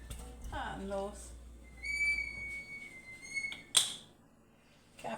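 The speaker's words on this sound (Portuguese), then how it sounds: "Que apito é esse, Jesus?" A high, thin whistle sounds in a home kitchen: a steady shrill tone held for about two seconds, followed by a sharp louder burst, with women chatting and laughing quietly around it.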